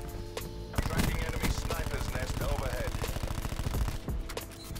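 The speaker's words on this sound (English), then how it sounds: "I hear gunshots" Submachine gun fire in a first-person shooter video game rattles out as a long, rapid automatic burst of evenly spaced shots, loud and close, lasting about three seconds before stopping.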